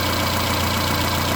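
The engine of a 1990 Honda Accord, warm and surging up and down in rpm, idles with a steady mid-low hum and faint rhythmic pulsing, close and alone.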